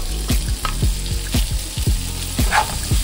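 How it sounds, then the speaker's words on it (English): Chopped garlic hits a hot pan for jerk chicken rasta pasta, giving a close, loud sizzle with repeated scraping and stirring strokes over a few seconds. "And then you're just going to add in your chopped garlic."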